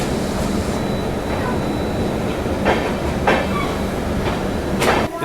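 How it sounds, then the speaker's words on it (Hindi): The Bhopal Rani Kamlapati to New Delhi Shatabdi Express pulls into Bina Junction with a loud, continuous rumble of wheels and carriages, broken by a few short hissing and clanking bursts heard from on board. "अपना दूसरा हॉल्ट स्टेशन बीना जंक्शन पे अराइवल अपनी भोपाल रानी कमलापति नई दिल्ली शताब्दी एक्सप्रेस का"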